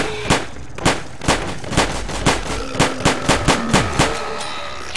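Rapid gunfire in the zombie survival game 7 Days To Die, a dozen or so loud, sharp shots in an uneven burst that tightens toward the end, heard alone without talk.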